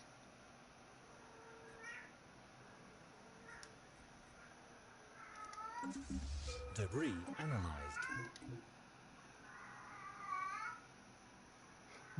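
A cat meows a few times at low volume during a console strategy game session, with a louder burst of meowing in the middle while someone talks over it.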